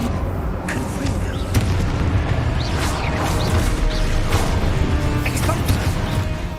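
Repeated Confringo blast spells in the Hogwarts Legacy video game, dull booming explosions and crashes over a dense, continuous bed of game combat noise, with a voice calling out spell names throughout.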